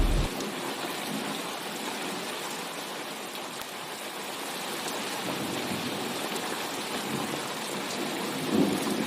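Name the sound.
rain and thunderstorm in cartoon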